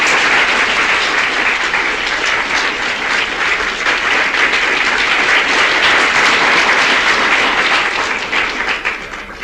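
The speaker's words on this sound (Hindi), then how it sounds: "ताली बजा के दादी का स्वागत करेंगे।" A large gathering claps steadily to welcome Dadi with loud, dense applause that holds for several seconds before easing slightly at the end.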